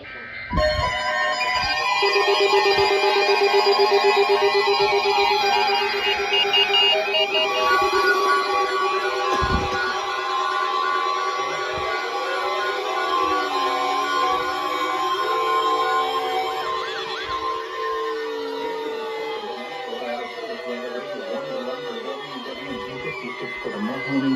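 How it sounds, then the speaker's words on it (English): NOAA weather radio emergency alert for northeast inland Ohio: a loud, steady electronic warning alarm tone, sustained and continuous with harmonic layers and slight wavering, filling the whole stretch without talk. "Warning alarm for the KDO94 listening area of northeast inland Ohio."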